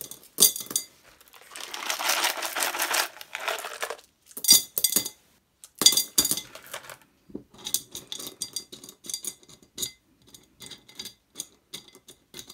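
Small green rocks are poured into a glass vase terrarium, first as a sustained rattling cascade, then in short bursts followed by scattered clinks and ticks of stones settling against glass, close and clear.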